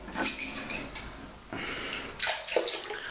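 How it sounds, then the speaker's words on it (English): Tap water runs steadily into a sink while a shaving mug is rinsed out, a continuous splashing rush that swells and shifts in a few surges, close by with no talking. "I'm just going to wash out the mug first"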